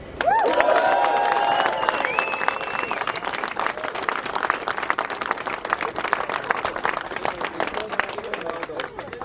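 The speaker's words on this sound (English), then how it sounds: "Give another cheer" Firefighters' rally crowd in Scotland cheering and applauding, a burst of whoops and shouts at the start settling into sustained dense clapping that carries on alone to the end.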